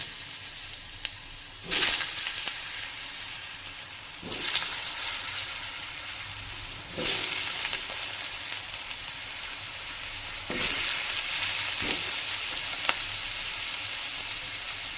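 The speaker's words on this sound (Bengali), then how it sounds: "এদিকে কড়াইতে মাছ ভাজার পরে কিছুটা তেল ছিল সেই তেলেতে আমি আলুগুলোকে দিয়ে দেবো" Cut potatoes sizzle steadily in leftover oil in a kadai after fish was fried there. The hiss is even and close, with sharper bursts every few seconds as the pieces are stirred or shifted.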